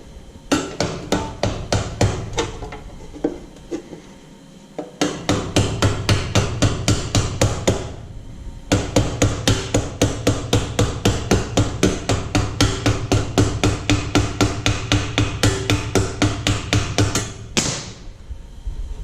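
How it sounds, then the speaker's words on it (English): Steady hammer blows on a rivet set against an anvil, dozens of sharp metallic strikes in quick regular rhythm with brief pauses between runs, loud and close with no talk. "you can then put another rivet through that, open it up, bring it over, set it on the anvil."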